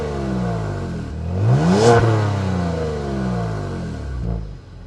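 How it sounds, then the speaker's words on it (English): The sport-tuned exhaust of a 2025 Genesis G70 sedan is revved up, peaking into a loud roar before settling back to a steady idle rumble, then a small blip at the end, heard close and alone. "You're also going to get a special sport tuned exhaust."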